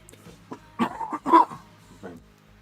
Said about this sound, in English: I'm sick and coughing a lot